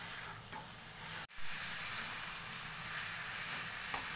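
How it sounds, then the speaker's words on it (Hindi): Jackfruit, potato, peas and carrot being stirred with masala in a hot wok give off a steady, close sizzle, broken by one brief scrape of the spoon. "पहले मसाला जब तक कोट ना हो जाए सब्जियों में तब तक इसे चलाएंगे"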